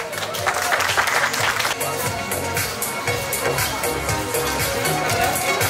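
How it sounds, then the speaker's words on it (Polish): An audience at a dog grooming show award ceremony claps continuously in dense, sustained applause, with a voice speaking over it. "Miejsce drugie, Rita Worobiowa, wielkie brawa"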